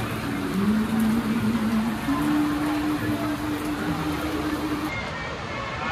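Steady rain patters down continuously, a dense wash of drops, with a faint hum running underneath.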